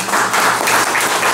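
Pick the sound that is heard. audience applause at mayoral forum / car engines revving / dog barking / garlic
audience applause at mayoral forum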